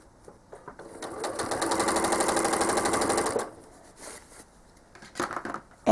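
Sewing machine quilting stitches on a quilt sashing, running in a steady fast rapid-fire burst for about two seconds, then stopping, followed by quieter handling noises and a few short stitch bursts, close and clear.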